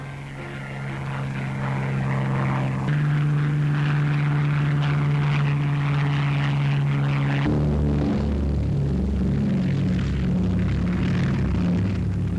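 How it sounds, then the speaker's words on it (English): Corsair and Barracuda warplanes taking off from an aircraft carrier, their propeller engines making a loud, sustained droning roar whose pitch shifts as one aircraft gives way to the next, with no voices. "Corsair and Barracuda planes roar into the sky."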